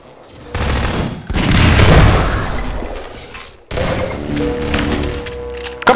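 Loud, close automatic weapon fire from Half-Life 2 Deathmatch: dense, sustained bursts with a brief break between two long volleys, with no clear speech.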